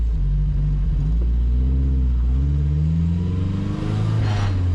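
A KA24DET-swapped Datsun 510 engine runs steadily from inside the car, a loud, deep rumble with a rising and falling drone as revs gently shift, continuous throughout.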